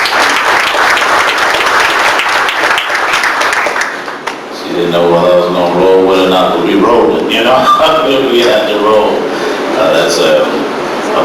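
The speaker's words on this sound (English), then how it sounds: "Give Connie a big round of applause." Audience applause for a community service leader at an anniversary celebration, loud sustained clapping that rises after a brief dip and carries on for several seconds, with a voice talking over part of it.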